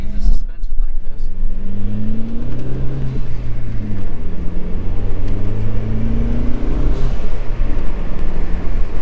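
A 1.8T B5 Volkswagen Passat on freshly installed suspension drives steadily, its engine drone and road rumble continuous and close, with rising and falling tones as it gathers speed, while a person talks over it.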